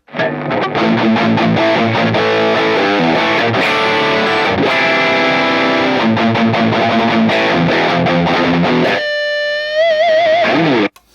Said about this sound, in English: That's more distortion than you're ever gonna need in your entire life